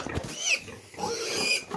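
A pig on a small farm grunts and snuffles close by in a short run of rough, nasal oinks with no speech over it.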